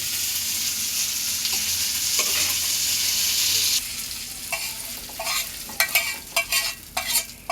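Beguni, eggplant fritters frying in oil on a gas stove, a dense close sizzle for several seconds that then drops to softer crackling broken by short scraping and clinking bursts.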